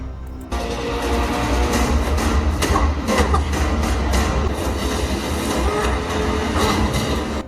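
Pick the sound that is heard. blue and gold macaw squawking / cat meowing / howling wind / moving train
moving train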